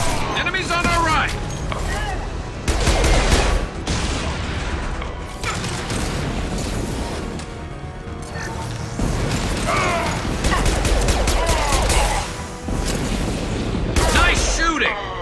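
Gunfire in Mass Effect 2 comes in repeated sharp bursts and cracks across a chaotic firefight, mixed with mechanical clatter and booms, while voices shout over the shooting.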